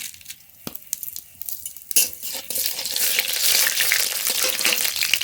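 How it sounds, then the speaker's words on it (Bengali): A dal tempering of bay leaf, two dried chillies and five-spice in hot mustard oil: a few scattered clinks and pops, then a loud, dense sizzle that bursts up and holds steady. "ফোড়ন করে নেব ডালের জন্য, তার জন্য সরষের তেল, ফোড়নে তেজপাতা, দুটো শুকনো লঙ্কা"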